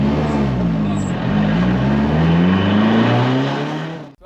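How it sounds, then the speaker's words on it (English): A race car's turbo engine revs hard and climbs in pitch during a track session at Gridlife CMP, loud and close, then cuts off abruptly as the car spins. "literally this thing spooled up so quick, it scared the shit out of me and it spun the whole car"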